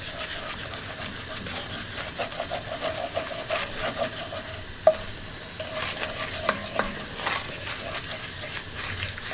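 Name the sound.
continuous stirring of frying meat for traditional Dibra pache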